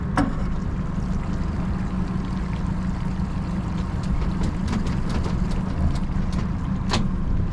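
A used 220 Ocean Pro boat engine idles cold before warming up, a steady low rumble with a continuous watery wash and a few sharp clicks, close and unbroken.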